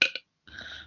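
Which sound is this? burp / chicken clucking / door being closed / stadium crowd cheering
burp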